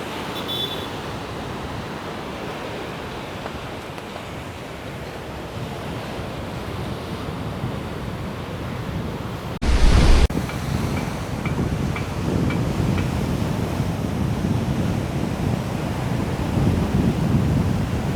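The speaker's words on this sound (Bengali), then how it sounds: "এখানে দাঁড়িয়ে দাঁড়িয়ে সাগরের গর্জন শুনতে সত্যিই ভালো লাগে।" Ocean waves roar steadily onto the shore at Colombo, a loud continuous wash of surf with wind buffeting the microphone and a heavier crash of breaking water near the middle.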